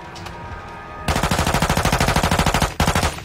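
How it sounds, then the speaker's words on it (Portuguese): A low-recoil automatic gun firing in a video game: after a second of quieter game ambience, a fast, steady burst of about twenty loud, evenly spaced shots rattles off, then stops briefly and resumes with one more shot. "Atira, cara, pra você ver. Tá sem recoil. Quase não tem recoil essa arma."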